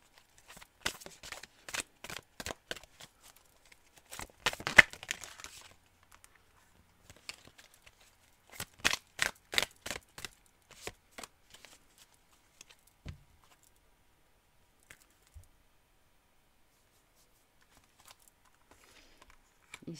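Cards from a twin flames oracle deck being shuffled and flicked close by, in short bursts of crisp rapid taps separated by long quiet stretches, with a few isolated soft clicks near the end.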